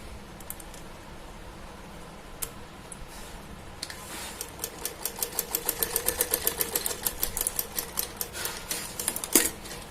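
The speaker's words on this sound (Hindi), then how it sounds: "और बस इस पे भी अब हम सिलाई लगा देंगे।" A sewing machine stitches a summer dress, starting with a few scattered clicks and then settling into a fast, steady run of rhythmic needle strokes that gradually grows louder before stopping.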